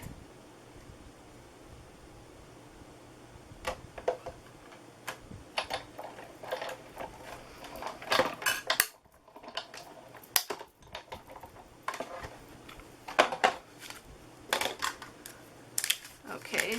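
Paper jar and lid cutouts cranked through a die-cutting machine for Christmas treat holders, giving a series of sharp crackling clicks and ratchety bursts that grow louder midway, near and alone, with a short silent gap.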